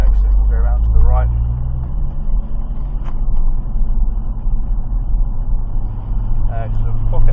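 Deep engine rumble from a Dodge Challenger Hellcat being driven, a loud low drone that rises and falls through a gear change beneath ongoing conversation inside the car.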